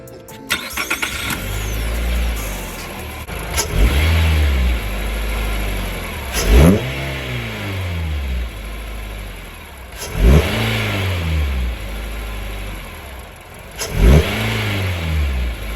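A car engine revs repeatedly from idle, four rising and falling throttle blips with a deep, throaty intake roar recorded under the hood, close by.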